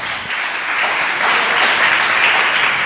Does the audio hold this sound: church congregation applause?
yes